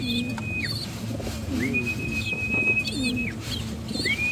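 Pigeons coo repeatedly in a close, steady series of soft throaty calls alongside a few thin chirps and whistles, over a constant low background hum.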